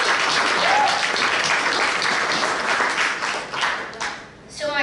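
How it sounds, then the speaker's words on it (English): An audience gives a big round of applause at a Rotary Club of Fair Oaks presentation on a rain-saving project. The clapping is full and even for several seconds, then dips and thins out near the end. "So a giant round of applause."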